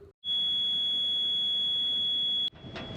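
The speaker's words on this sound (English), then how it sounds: "The overheating alarm went off for the engine" A boat engine's overheating alarm sounds as a single continuous high-pitched electronic beep lasting about two seconds, loud and close, cut off abruptly with engine rumble continuing after.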